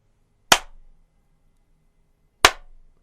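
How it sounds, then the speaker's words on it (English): Two sharp, isolated hand claps sound in a quiet room, spaced about two seconds apart, each followed by a short reverberant tail. "Starting off with a clap,"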